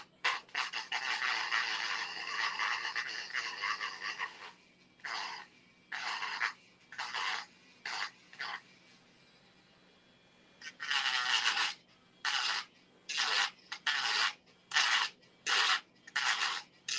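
Cured resin is sanded by hand to remove a lump, heard as close, dry, rasping strokes: one long stretch, then a rhythmic series of short back-and-forth rubs, with quiet pauses between bursts.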